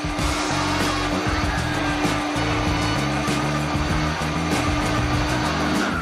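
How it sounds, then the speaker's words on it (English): A blender runs loud and steady for several seconds as it mixes a vegan chocolate mix of tofu and melted chocolate, with a whirring motor and no talking. "As the mix is blending, slowly trickle in the melted chocolate."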